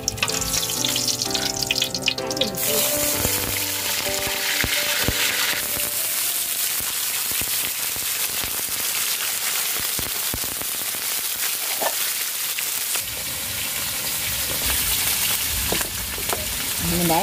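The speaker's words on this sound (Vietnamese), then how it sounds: "Giờ chảo nóng rồi mình cho dầu vô mình chiên cá." Fish fries in hot oil in a pan with a little garlic, a loud, steady crackling sizzle that runs continuously from start to finish, close up with no talking.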